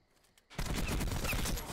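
Rapid gunfire in the shooter Black Ops 4 starts abruptly after a quiet moment and continues as a loud, dense, continuous rattle of shots until the end.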